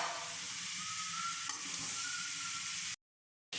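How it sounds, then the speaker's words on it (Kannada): Tomato and grated coconut fry in a pan for a chicken sambar, giving a steady, gentle sizzle with light stirring that runs for about three seconds and then cuts off abruptly. "ಇದಕ್ಕೇನೆ ನಾನು ತೆಂಗಿನ ತುರಿನೂ ಸೇರಿಸಿ ಸ್ವಲ್ಪ ಫ್ರೈ ಮಾಡ್ಕೊಳ್ತಾ ಇದ್ದೀನಿ"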